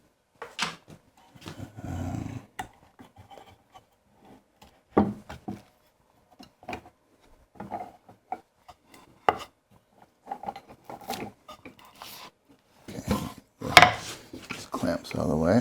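Clamps being loosened and pulled off a glued-up hand-cut dovetail wood piece in a workshop, a series of scattered close wooden clunks, scrapes and metallic clicks with quiet gaps between them.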